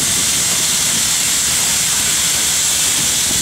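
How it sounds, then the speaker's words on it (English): Two big steam whistles on a large Corliss steam engine blow, a loud, continuous steam hiss with a rushing, breathy roar, steady and close, with no clear tonal whistle standing out. "way at the top, two big whistles."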